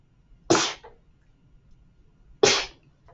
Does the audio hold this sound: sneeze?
yes